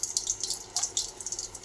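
Mustard seeds spluttering in hot oil while tempering spices for a bottle gourd kootu, heard as quiet, irregular crackles and pops in quick bursts, with no voices.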